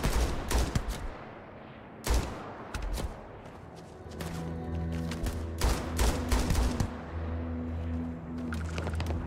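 Gunfire in the video game Starfield: sharp, loud shots in quick clusters, then a sustained droning hum under further scattered bursts.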